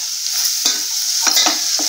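Pepper-cumin powder and garam masala frying in hot oil for an egg malai curry, with a steady bright sizzle and a few scraping strokes of a spoon stirring the pan, close and without talk.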